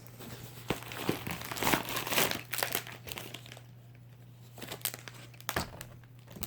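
A sheet of stickers crinkles and crackles as it is handled, in irregular bursts of close, soft rustling over a low steady hum, with quieter pauses between.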